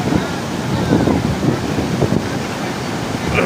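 Strong wind buffets the microphone over steady surf at a Pangasinan beach, a dense continuous roar without clear breaks between waves.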